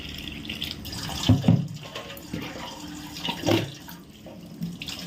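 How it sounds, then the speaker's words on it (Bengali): Water running from a tap onto raw chicken pieces in a kitchen sink, a steady splashing flow with a couple of louder bursts as the stream hits the meat, close by and without speech. "আর এই চিকেনটাকে জল দিয়ে রাখি।"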